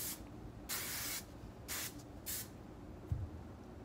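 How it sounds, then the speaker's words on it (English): Hairspray misted over freshly curled beach-wave hair, three short close hissing bursts from an aerosol can separated by brief pauses, with a faint thump near the end. "I'm gonna spray."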